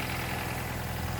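A JDM-swapped Honda Accord engine idles steadily nearby, a continuous low rumble with an even hum and no speech over it.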